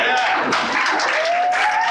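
A studio audience at a comedy podcast claps and cheers in a dense, steady burst of applause, with people talking over it throughout.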